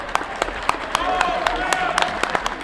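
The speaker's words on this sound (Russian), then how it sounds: "Аплодисменты нашим пацанам, вот они." Football club fans at a season-closing event applaud the team's young players, a crowd of hands clapping with sharp individual claps standing out over a busy murmur of voices, loud and close.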